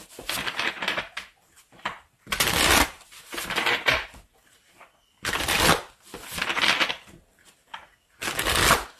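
Tarot cards being shuffled by hand: repeated loud, close bursts of riffling and rustling, each lasting about a second, separated by short quiet gaps.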